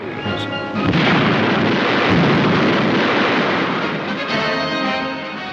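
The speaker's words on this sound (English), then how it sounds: "For 12 days, the hills echoed with gunfire." Heavy rumbling blasts roll on continuously, loud and booming like distant artillery and gunfire echoing across open hills in a WWII North Africa battle, with no speech.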